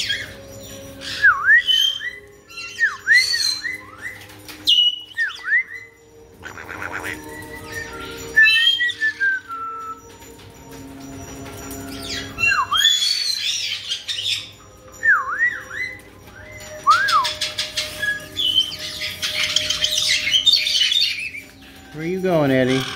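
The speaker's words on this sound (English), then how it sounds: "Corralling parrots, let's go." Pet parrots squawk and whistle repeatedly at close range, with sharp rising and falling calls and bursts of chatter, while a person talks to them in between.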